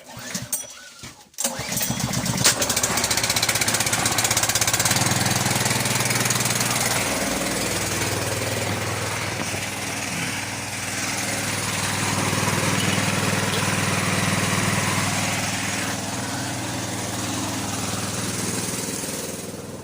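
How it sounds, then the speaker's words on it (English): An air compressor for an air jack, used on a Nooteboom four-axle lowloader trailer, starts with a sharp burst after a brief pause. It then settles into a loud, steady mechanical drone that runs unbroken for the rest of the stretch. "I'm just going to fire up my compressor and then I can get my air jack under the back of it"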